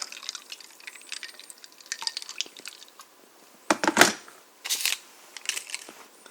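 Water poured into a glass of Gatorade Zero Sugar Glacier Freeze over ice cubes: light crackling and clinking of ice, then two short splashy pouring bursts up close, with no talk.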